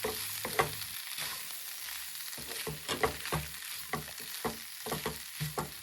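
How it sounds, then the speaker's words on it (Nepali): Masala pasta (macaroni) with spices is stirred slowly in a pan, Nepali style, giving soft repeated scraping strokes over a faint sizzle. The sound is quiet and close, with no talking. "अब चाहिँ पास्ता राख्नुपर्ने हुन्छ। सबैतिर मरमसला लाग्ने गरी यसलाई बिस्तारै चलाउनु होला।"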